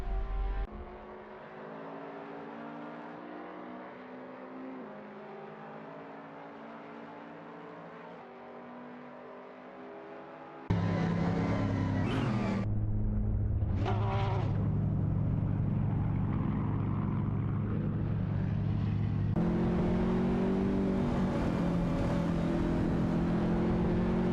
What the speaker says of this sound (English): behind the wheel of a Porsche 911-996 GT3 RSR and Camillob 15 piloting a Panos Esperant Dinton Evo